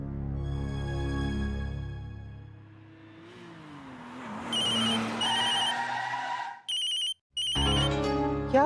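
A telephone rings with repeated electronic trill bursts over a revving car engine and music, the rings arriving in short pulses separated by brief gaps.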